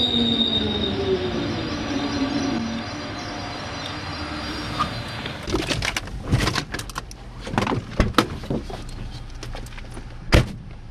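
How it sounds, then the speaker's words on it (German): An S-Bahn commuter train pulls in, its wheels squealing in long high screeches, then a run of sharp metallic clanks and thumps as the carriages roll through the station. "Die S-Bahn kommt gleich, du!"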